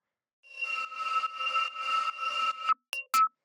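A sustained, metallic synth pad with clashing tones, pulsing slightly and washed in reverb, then a few sharp cut-off stabs at the end.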